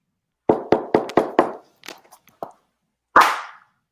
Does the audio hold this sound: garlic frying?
no